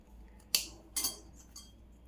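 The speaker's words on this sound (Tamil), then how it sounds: "பட்டையை உடச்சி போட்டுக்கோங்க, கொஞ்சம் சீக்கிரம் இதாயிரும்" Pieces of cinnamon bark are snapped and dropped into a pan while dry-roasting spices for homemade Tamil garam masala: two crisp, sharp cracks with a clatter, then a faint third tick, all close and otherwise quiet.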